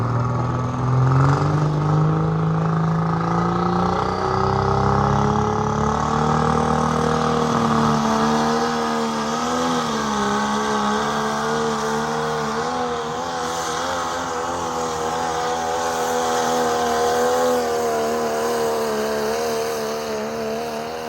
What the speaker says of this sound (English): Here is the first all-billet 6-liter Jesse Warren's truck.